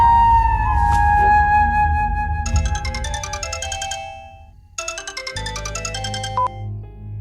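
Mobile phone ringtone plays a repeating electronic melody, loud and close, in a Hindi-dubbed South Indian action film scene, cutting off abruptly partway with a brief tone change before stopping.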